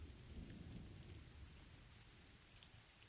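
Constant rain pours in a video game environment with a low thundery rumble underneath, an even wash of sound throughout and no voices.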